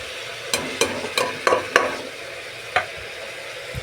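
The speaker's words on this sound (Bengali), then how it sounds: "এবারে এটাকে আমি কষে নেবো ভালো করে, একদম ভালোভাবে এটা কষতে হবে" Spices and two bay leaves being stirred and fried in a pan, with a series of sharp scraping stirs in quick succession over a steady sizzle, then one more stir after a pause.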